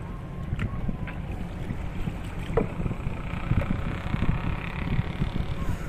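A rowboat being paddled on water with a current, close up, with rhythmic splashing and sloshing of the paddle under a steady rush of wind buffeting the microphone.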